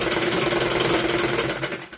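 Sewing machine stitching a sleeve onto a simple suit: a steady, fast mechanical whir with an even needle rhythm, close and continuous throughout, easing slightly at the very end.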